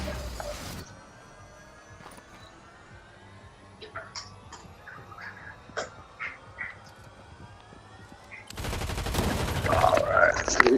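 Rapid bursts of gunfire in a multiplayer shooter video game, loud at the start and again near the end, with scattered shots and game sounds in between and voices talking.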